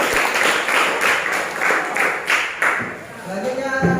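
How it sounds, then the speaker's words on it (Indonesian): A classroom of students applauds a presenting group, the clapping falling into rhythmic bursts that rise and fade, with a few voices mixed in near the end. "Kita berikan aplaus tuh."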